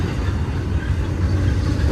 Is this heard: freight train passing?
yes